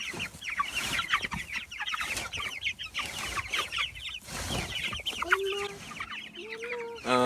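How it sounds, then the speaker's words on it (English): A flock of broiler chickens on pasture clucks and chirps continuously nearby, many overlapping calls forming a busy chatter, with a few longer tonal calls near the end. "the broiler chickens that you see here are a relatively recent innovation"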